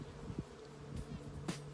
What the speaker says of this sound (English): Some real nice bees.